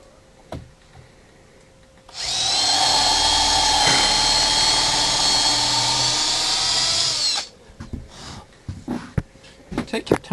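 A power drill pre-drills a hole in wood for an apple press build, a loud steady high whine lasting about five seconds, with quieter handling knocks and clicks before and after.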